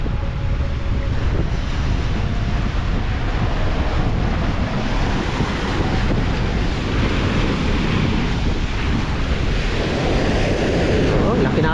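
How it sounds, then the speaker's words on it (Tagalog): Large ocean waves roll and wash against the rocky Jeddah Corniche shore in a continuous, loud surf, with heavy wind buffeting the microphone throughout. "Oh, laki na alon, oh."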